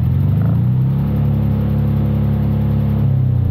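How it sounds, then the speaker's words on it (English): Engine of a Piaggio three-wheeler auto rickshaw held at a steady, loud idle-to-rev drone with a low throbbing rumble, close by and alone with no voices. "Let's have a listen to the Piaggio revving."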